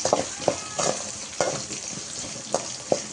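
Green peas frying in a pan for vegetable upma, a steady close sizzle punctuated by several scraping stirs at a loose, regular pace.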